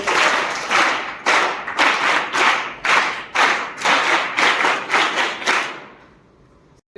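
A group welcoming guests at an ashram school gathering claps in bursts, about ten sharp rounds of applause in a steady rhythm, close and loud, fading to quiet at the end.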